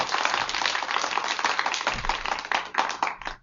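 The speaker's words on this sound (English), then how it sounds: "Clapping." Clapping on a live talk show as a co-host finalist is announced, a few people clapping quickly and unevenly at close range for a few seconds, ending abruptly.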